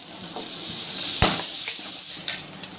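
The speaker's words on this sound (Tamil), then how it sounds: "இப்போ நம்ம அரைச்சி வச்சதை போட போகிறோம்" Ground masala paste hitting sautéed onions in a pan for mushroom gravy, a steady close sizzle of frying with a sharp clatter of utensil against the pan midway and a few lighter scrapes of stirring.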